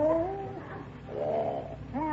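Old-time radio comedy cat meowing effect: a few drawn-out, wavering mews at moderate volume over a faint hiss, with no talk.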